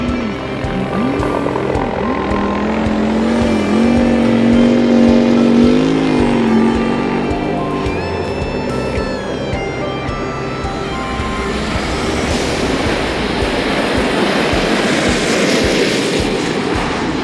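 Racing jet boats, both piston and turbine powered, roar past at the World Jet Boat Championship in Whiteport, loud sustained engine noise rising and falling in pitch as they pass, with a shrill turbine whine surging in the middle.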